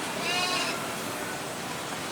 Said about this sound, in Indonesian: Ini kambing jenis boer, ini jenis bedaging.